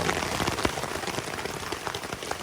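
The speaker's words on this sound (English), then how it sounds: "It's raining." Steady rain drums on a tent on a wet morning along the Appalachian Trail, a dense patter of drops with no break.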